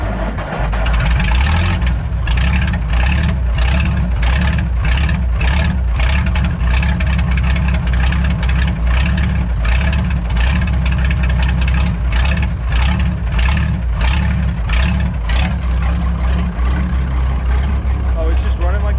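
Pettibone crane engine revving on its own while being recovered and repaired, a loud, steady rumbling drone with rhythmic pulsing throughout, close by with nothing else masking it.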